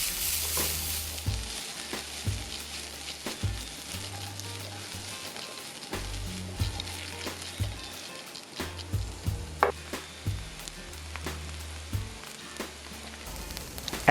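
Close, steady sizzle of vegetables frying in olive oil in a hot pan, with repeated stirring scrapes and low knocks every second or so over fourteen seconds, no voices.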